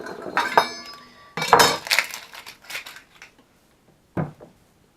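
A kitchen knife tops and tails an onion on a cutting board, giving a few sharp clinking cuts and taps in separate bursts, the last one isolated after a short pause.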